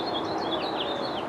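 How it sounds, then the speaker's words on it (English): A yellow warbler's bright, high song of quick cascading notes, repeated a few times over steady background noise, moderately faint and at some distance. "That's actually what we call a yellow warbler."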